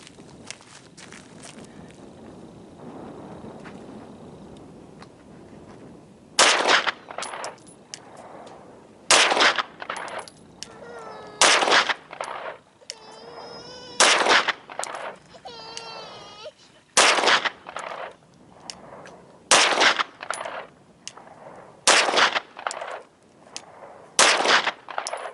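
A Ruger 9E 9mm pistol fires 100-grain Team Never Quit frangible self-defense rounds at a target, about ten loud sharp shots spaced irregularly roughly a second apart, with faint ringing and light handling noise between them.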